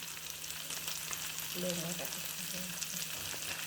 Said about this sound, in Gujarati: તો આની અંદર હવે આપણે લીલી એકદમ ઝીણી સમારેલી મરચી નાખીશું